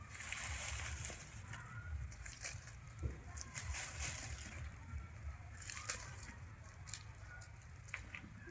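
Water splashes and patters onto soil over newly planted onions in a home vegetable garden, a continuous close sloshing pour with a few heavier splatters, and a bird faintly audible.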